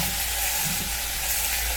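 Pork pieces sizzle and fry in a pan with softened shallots, a steady loud hiss of hot oil running without pause, with no voices over it.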